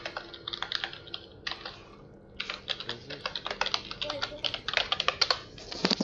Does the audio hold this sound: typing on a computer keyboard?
yes